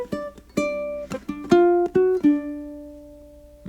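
A short blues lick picked on ukulele: a few quick plucked notes and a bright chord stab, then a final note left to ring and decay, close and solo.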